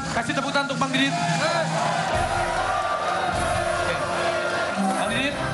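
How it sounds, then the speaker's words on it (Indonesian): Audience clapping and cheering for a contestant on a game show where soldiers play a dice game, a dense crowd roar with whoops, under steady music and voices. "Kasih tepuk tangan untuk Bang Didit."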